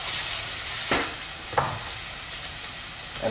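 Salted onions sweat in olive oil in a pan for risotto, a steady close sizzle with a couple of brief scraping stirs cutting through.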